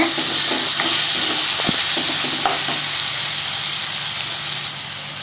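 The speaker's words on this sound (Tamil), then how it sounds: "சேர்த்து இது மாதிரி வதக்கி விடுங்க" Tomatoes sautéing in a pan with curry leaves and ginger-garlic paste for a quick tiffin sambar, giving a steady close sizzle and hiss broken by scattered stirring clicks and scrapes, with no voices.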